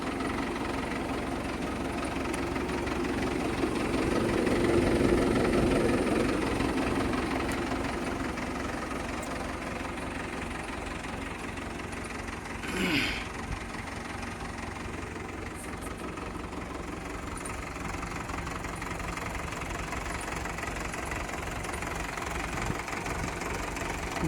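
A Mahindra 475 tractor's diesel engine idles with a steady knocking throb, swelling slightly early on, with a brief higher mechanical whine midway and no talk over it.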